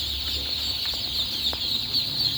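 Dense chorus of meat-breed ducklings peeping continuously, a constant high-pitched chatter with a low background hum.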